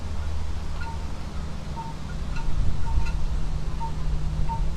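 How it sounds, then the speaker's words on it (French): Steady wind with soft rustling of leaves and bamboo stalks outdoors, a continuous low airy wash with faint intermittent chirps and a distant low traffic hum underneath. "J'entends les feuilles, j'entends les voitures qui passent, j'entends le bruit du bambou derrière moi."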